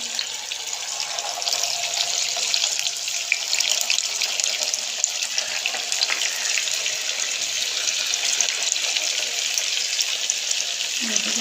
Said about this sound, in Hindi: ऑयल हमारी गर्म हो गया है। जो बॉल्स हमने बनाई हैं वो इससे फ्राइंग के लिए हम डालते